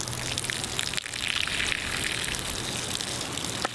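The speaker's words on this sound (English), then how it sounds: "I figured out a way to modify a 12-volt pump in order to get the water out using just the power of the sun" Water gushes steadily from a modified 12-volt pump running on solar power at a woodland geodesic dome build site, a loud continuous splashing flow with a brief knock partway through.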